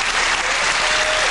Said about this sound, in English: the crowd cheering both of these competitors on